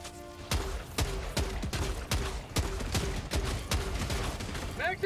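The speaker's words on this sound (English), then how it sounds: "I don't know who's shooting at me." Rapid gunfire rattles in Helldivers 2 on PS5, with sharp shots repeating at a steady, fast rhythm through the whole stretch, loud and close over a busy game background.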